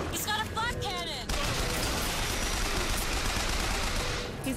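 A flak cannon fires in Bioshock Infinite, a loud, continuous barrage of rapid booming shots that pounds on after a short burst of voice at the start.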